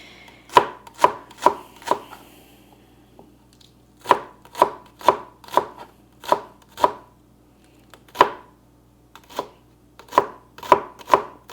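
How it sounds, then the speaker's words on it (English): A knife slices green onions on a cutting board, sharp, evenly spaced chops in quick runs of four or five with short pauses, loud and close and with no talking. "Slice some of that up."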